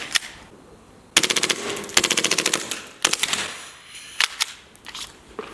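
An airsoft Glock 18C gas pistol fires on full auto in several short, sharp bursts of rapid pops separated by brief pauses, loud and close, with no talk.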